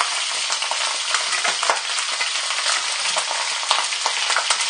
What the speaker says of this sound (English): I'm partially frying these bad boys. You can hear them crackling and popping